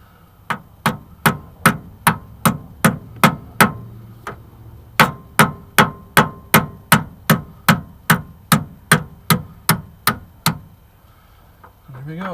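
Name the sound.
hammer driving pin into motorhome slideout cog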